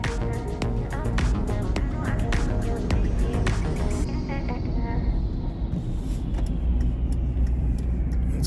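A Volvo XC60 drives on a road, giving a loud steady low rumble of engine and tyre noise from inside the cabin, with scattered clicks and knocks over it.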